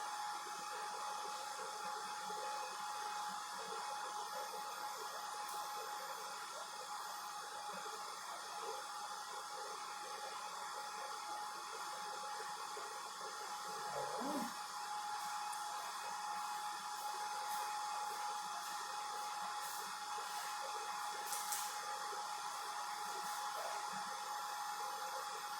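A model 5830 BGA rework station runs its heating profile with a steady, close, continuous fan-driven whoosh of hot air, much like a hair dryer, with no talk over it.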